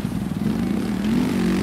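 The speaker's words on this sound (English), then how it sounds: "I am riding like Ronnie Mac right now. Doing air wheelies and stuff" Motocross dirt bike engine in the video game MX vs ATV Legends, a steady droning buzz that holds at high revs and rises slightly in pitch, loud and close, with no talking.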